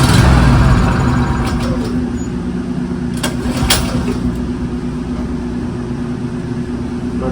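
A Champion generator running on propane with its choke on drones steadily nearby, a loud even engine hum with a low rumbling buzz that holds throughout, no voices.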